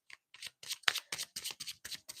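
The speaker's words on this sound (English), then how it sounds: "So I'm actually trying to shuffle out another confessions card." Tarot cards are shuffled by hand in a series of quick, crisp riffling bursts with short gaps, soft and close, with no talking.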